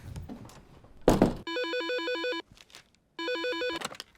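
A telephone rings electronically in two bursts, a steady warbling trill with a pause between, after a brief thump and some background noise.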